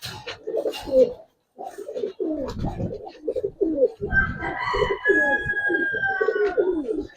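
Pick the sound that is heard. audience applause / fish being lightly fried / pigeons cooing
pigeons cooing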